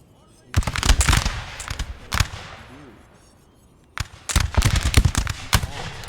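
Musket volleys from skirmisher infantry in the Napoleonic strategy game Napoleon: Total War, loud crackling bursts of massed shots in two clusters separated by a quieter gap, with a voice briefly heard.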